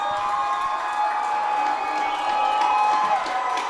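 Crowd cheering at a high school football playoff game, a broad sustained roar of many voices from the stands that holds steady throughout.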